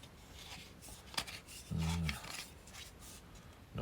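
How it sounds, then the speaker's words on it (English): A part is threaded onto a vintage metal oil can, producing short dry scraping and rubbing noises, with one fuller grinding scrape in the middle, close and fairly quiet. "Why does it not want to thread on properly?"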